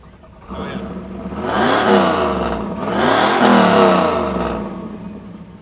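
A 1988 F-body car engine revs hard twice at an exhaust competition, each loud rise swelling and falling back, the second rev held longer before easing off.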